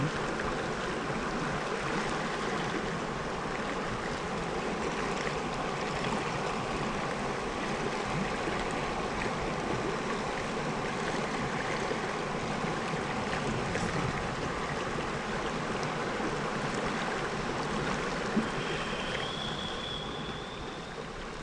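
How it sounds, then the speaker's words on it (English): Water rushes and flows continuously, a steady broad wash of sound with no voices, slightly fading near the end. "Just listening to the water flow."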